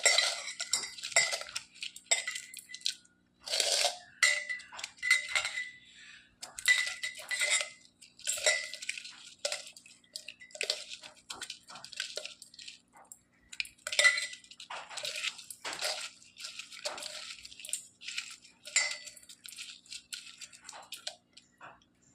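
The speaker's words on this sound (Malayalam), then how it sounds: "ഇപ്പോൾ ഉള്ളി മുളകൊക്കെ കൂടെ ഞാൻ നന്നായിട്ട് ഞെരടി യോജിപ്പിച്ചിട്ടുണ്ട്." Onion and chilli crushed and mixed by hand in a bowl for a curd dish, heard as close, irregular clinks and rattles against the bowl with soft squelching, with no talking.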